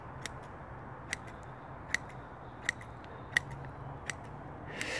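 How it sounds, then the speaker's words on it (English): Scissors snip the roots of ligustrum bonsai cuttings, giving about eight sharp, evenly spaced clicks over a faint background hiss, close and fairly quiet. "I'm going to give a root trim here"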